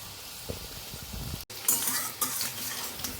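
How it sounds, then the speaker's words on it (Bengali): Chicken pakoras frying in oil over a lowered flame in a home kitchen, giving a soft steady sizzle with occasional stirring and utensil clinks, moderately close, no talking. "এই যে পকোড়াগুলো এখন ভাজছি প্রথমে একটু ফ্লেমটাকে হালকা করে নেব তারপরে ভাজব"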